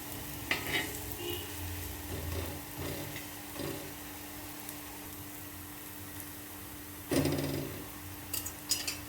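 A masala ragi roti cooks on a pan with a soft, steady sizzle, broken by occasional louder bursts as it is pressed or turned against the hot surface.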